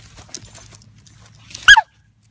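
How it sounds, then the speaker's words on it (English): A dog being leash trained on a collar lets out a short, sharp, whiny yelp of protest, two quick rising-falling cries near the end of an otherwise quiet stretch. "And of course, that's Krash expressing his displeasure with the pops on the leash and on the collar."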